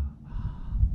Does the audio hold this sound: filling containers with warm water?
no